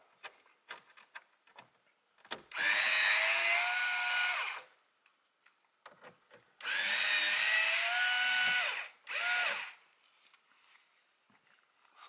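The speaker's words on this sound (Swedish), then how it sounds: "För att ta loss radion så skruvar vi loss de här 4 skruvarna" Power drill backing out the four screws that hold the original factory radio in a Volkswagen Passat 3C, three separate whirring bursts of a few seconds each with quiet clicks and handling noise between them, no talk.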